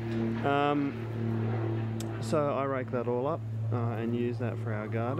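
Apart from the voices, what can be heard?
aeroplane flying overhead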